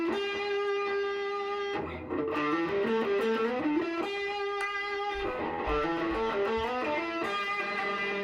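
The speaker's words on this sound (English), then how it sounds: "let's play some individual notes for you with distortion so you can hear." EART TL-380 electric guitar with distortion, picking individual notes in a sustained, bending melodic line, each tone thick and buzzing with rich overtones, loud and continuous.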